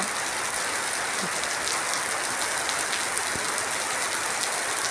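Steady rain pours down in a dense, even hiss, with scattered drops pattering on a surface nearby. No voices.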